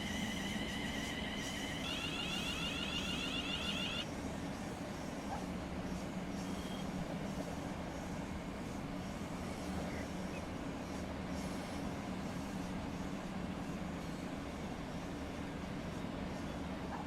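A class 700/0 electric train runs in Train Sim World 3, a steady loud rumble of wheels on rail with a brief two-tone electronic cab alert near the start.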